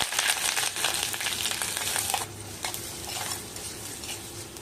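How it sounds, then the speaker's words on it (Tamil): Mustard seeds, onions and curry leaves fry in hot oil in a kadai for a brinjal dish, giving a loud, bright close sizzle that suddenly drops to a softer, steadier crackle partway through. "கடுகு பொரிஞ்சதும் வெங்காயமும் கருவேப்பிலையும் சேர்த்துக்கலாம்."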